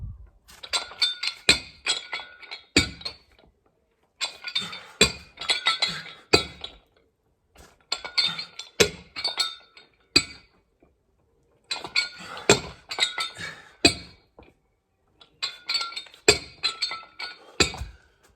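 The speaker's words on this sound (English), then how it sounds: "My dumbbells sound like someone clattering some wine bottles together, old ones" Repeated bursts of glassy clinking and clattering from dumbbells knocking together, like bottles, come in rhythmic groups separated by short pauses.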